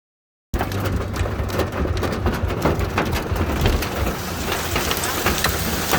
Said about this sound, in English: Holy hailstorm.